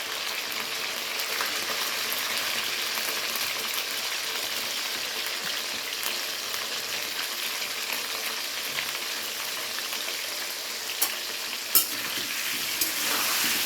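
Steady crackling sizzle of potatoes frying in hot oil with salt and turmeric, continuous and close, with a few brief louder pops near the end.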